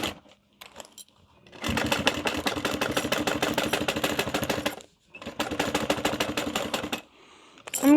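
A sewing machine bastes with backstitching along a crossbody bag's zipper lining, two close bursts of rapid, loud mechanical stitching separated by a short pause, with light handling clicks between.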